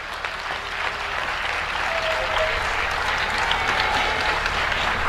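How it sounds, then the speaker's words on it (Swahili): Dense, steady applause from a large audience at a university building inauguration attended by Tanzania's presidents, sustained clapping throughout with a faint crowd murmur and a brief tone underneath. "Mpigieni makofi."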